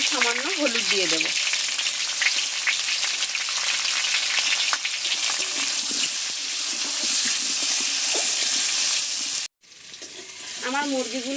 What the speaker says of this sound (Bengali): আলুগুলো নেড়ে চেড়ে খুব সুন্দর করে ভেজে নিয়েছি